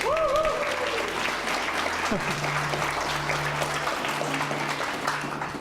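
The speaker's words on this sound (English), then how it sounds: "Can we have another big round of applause for them?" An audience gives a round of applause for panelists at a design career talk, a dense, sustained clapping under a speaking voice and low background tones, fading slightly at the close.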